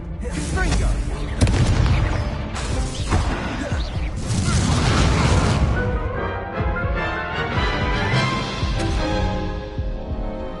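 Spell explosions from the video game Hogwarts Legacy, the Confringo fire spell bursting in a run of loud booming blasts and crashes with whooshing tails, heavy through the first half and then easing into ringing game sound.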